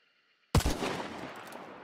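A single sharp Vetterli rifle shot in the Hunt Showdown video game cracks out after silence, loud and close, then trails off in a long rolling echo.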